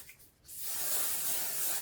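A short, steady hiss of super hold hairspray misted over curled hair, starting after a brief quiet moment and lasting just over a second before cutting off, close to the microphone.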